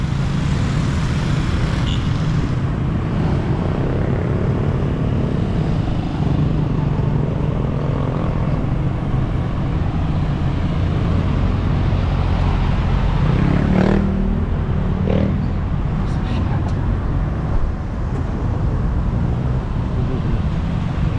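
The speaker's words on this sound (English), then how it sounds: "Super light traffic for this time of day." Light traffic along MacArthur Highway at sunrise, a steady roadside rumble of passing cars and motorcycles, with one vehicle passing close partway through.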